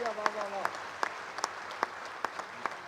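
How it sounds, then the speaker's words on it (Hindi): A live audience at a Haridwar kavi sammelan (poetry gathering) claps for Modi in a sparse, steady rhythm, with single sharp claps about every 0.4 seconds over a faint crowd murmur. "एक बार मोदी जी के लिए तालियां बजाओ साहब,"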